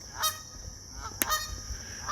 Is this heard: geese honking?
yes